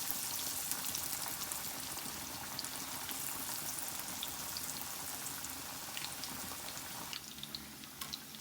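Fish coated in gram flour batter fries in hot oil, giving a steady, fairly quiet hiss and crackle of sizzling with no talking over it.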